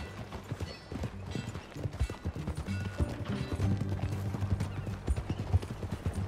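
A horse's hooves clip-clop in a steady, rhythmic trot while riding in the video game Red Dead Redemption 2, moderately loud and close, over faint background sound.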